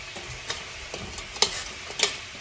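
Gluten-free chicken wings sizzle and fry steadily in a pan, a close, continuous crackle punctuated by a few sharper pops and stirring clicks.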